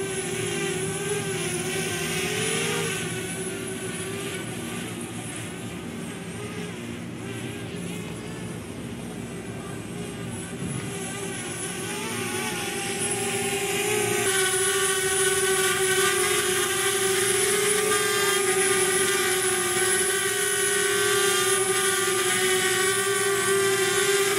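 A DJI Spark drone fitted with light landing gear flies around overhead, its propellers giving a steady, loud whine that holds throughout and grows slightly stronger partway through.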